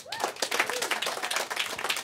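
A brief burst of scattered hand clapping, a small group applauding close by with uneven rhythm, faint voices mixed in.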